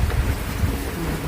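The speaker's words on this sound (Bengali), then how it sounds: "প্রচণ্ড বৃষ্টি হইতেছে আজকে 2-3-4 দিন পর্যন্ত।" Heavy monsoon rain falls steadily at a goat farm, a broad, even roar of downpour with low rumbling underneath, loud and continuous.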